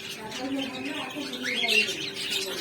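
Budgerigar chicks at a bird breeding farm chirping and cheeping nearby, a busy cluster of thin high calls over general aviary chatter, with someone talking at the same time.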